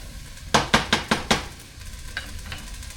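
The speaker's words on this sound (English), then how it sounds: "Stir it." A utensil clinks against a pot of fiery chili in five quick, close stirring scrapes, then two fainter taps over a soft background hiss.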